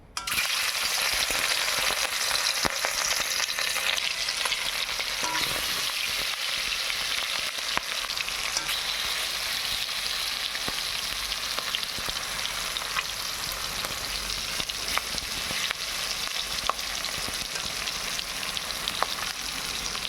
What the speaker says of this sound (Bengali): এখন দেখো, তেলটা গরম হয়ে গেছে। এর মধ্যে দিয়ে দেবো মাছগুলো।